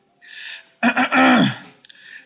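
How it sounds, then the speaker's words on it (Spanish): A loud, drawn-out throat clearing up close, a rough vocal rasp with a short breath before and after. "Avalon carraspeó estentóreamente."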